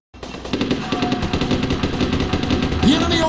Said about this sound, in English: The enemy opened fire.